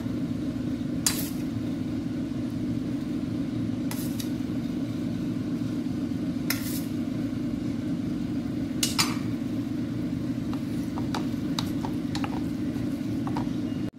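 A spoon stirs cooked rice into a tomato vegetable mixture in a metal pan, with a few sharp, spaced clinks against the pan over a steady background hum.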